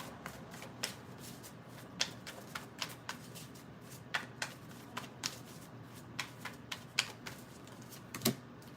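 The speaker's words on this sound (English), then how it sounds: "Let me get a card from the Oracle." Oracle cards being shuffled and drawn: a soft bed of riffling with a string of sharp card snaps and flicks at irregular intervals, close and fairly quiet with no talking.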